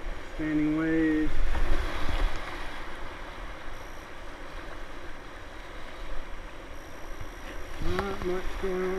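Standing waves on a small river wash and splash steadily around a kayak, a continuous close rushing of water throughout.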